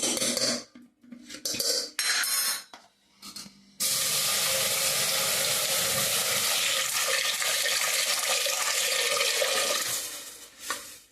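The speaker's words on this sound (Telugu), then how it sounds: "పప్పు అయితే ఇప్పుడు కడుగుతున్నాను నేను" Lentils are washed in a vessel: a few scattered clinks and swishes come first, then running water pours in and flows steadily and close for several seconds.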